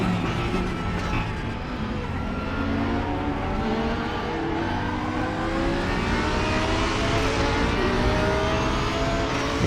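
A Lamborghini race car in the RaceRoom DTM pack at Zandvoort, its engine droning loud and continuous through rising and falling gear pitches, with no talk over it.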